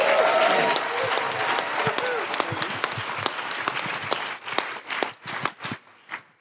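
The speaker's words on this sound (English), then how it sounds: "So make a whole lot of noise for the Action Catalyst panel." An audience at a live podcast taping applauds the Action Catalyst panel, a thick burst of clapping and cheering that thins out into scattered separate claps before it stops.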